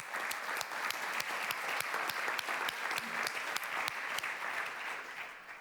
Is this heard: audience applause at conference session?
yes